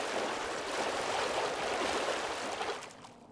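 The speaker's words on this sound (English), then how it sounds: "a water beam, which was very loud" A water beam fired from a guitar in a Minecraft mod makes a loud, steady hiss like rushing water that holds for about three seconds, then fades out.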